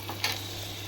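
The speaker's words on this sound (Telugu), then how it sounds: "ఉల్లిపాయ బాగా ఫ్రై చేసుకోవాలండి డీప్ ఫ్రై చేసుకోవాలి" Onions deep frying in hot oil give off a steady, close sizzle with a faint stirring scrape near the start, alone and without voices.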